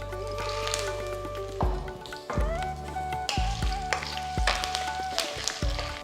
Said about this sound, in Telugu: దీంట్లో నేను ఈ పల్లీలు వేస్తున్నాను అనమాట ఇవి రోస్టెడ్ పల్లీలు అనమాట